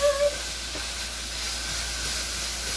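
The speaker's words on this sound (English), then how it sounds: "I need to stir my meat." Meat being stirred as it cooks in a pan gives off a steady, even sizzling hiss, with a slightly louder burst right at the start.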